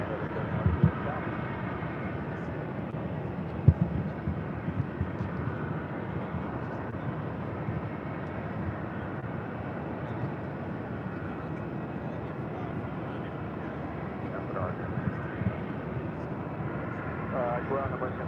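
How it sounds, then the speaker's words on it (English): American Airlines Airbus A319 at Phoenix Sky Harbor airport preparing to push back for a flight to Portland, a steady broad jet engine roar with ramp noise filling the scene, heard from nearby with occasional background voices. "We have another A319 about to push back."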